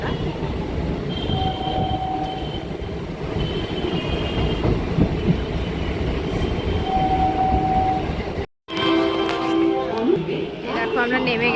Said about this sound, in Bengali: এই ট্রেন ছেড়ে দিল, পুরো ফাঁকা ট্রেন।